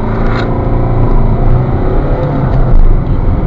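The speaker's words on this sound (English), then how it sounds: "We're going to do a 0 to 60 test now." A 2006 Ford Fiesta Zetec 1.4 pulling hard from a standstill in a 0 to 60 test, heard from inside the cabin as a loud, steady engine drone with road rumble, continuous throughout, without any talking.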